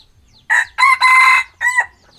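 A rooster crows loudly and close by, a harsh drawn-out call in several bursts with short breaks between them.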